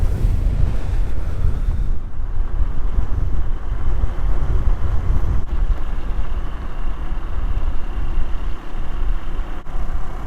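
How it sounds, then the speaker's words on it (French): Strong wind buffets the microphone continuously near a cliff edge in Ürgüp, Cappadocia, Turkey, a loud roaring rush with no voices, steady throughout. "il y a énormément de vent"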